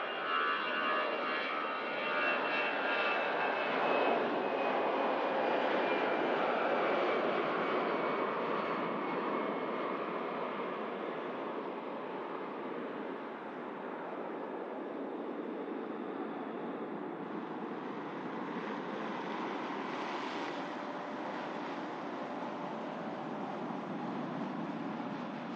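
An Iberia airliner moves at Manchester Airport on a winter night, giving a sustained jet engine rumble with a high whine that slowly fades and stays moderate in level, with no voices.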